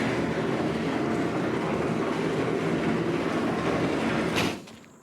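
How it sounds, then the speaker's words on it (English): A large shed door slides open on a farm in Farming Simulator 25, a steady loud rolling rumble that runs for several seconds before stopping with a faint clunk. "We'll open up this shed here, see what's in this"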